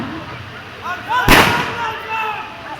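Gunfire or a blast from a CISF security drill at the Valiyamala LPSC unit, staged as a Naxalite attack on a magazine office: one sharp, loud broadband crack near mid-clip, heard against outdoor background with faint voices.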